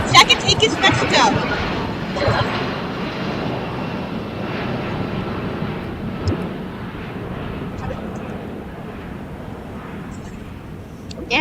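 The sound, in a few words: United Airlines Boeing 757-224 jet taking off at LAX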